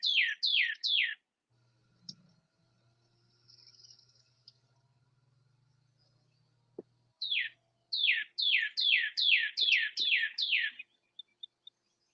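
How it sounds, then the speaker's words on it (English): Pet birds at home give repeated bursts of bright, rapid chirping, close and fairly loud, with quiet pauses between the runs of calls. "Yes, my birds are talking to me."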